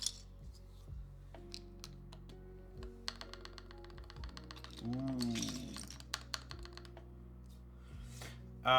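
Keys clack on a mechanical keyboard fitted with Boneyard keycaps, quiet scattered taps and short flurries of typing mixed with faint clinks, with low background hum throughout.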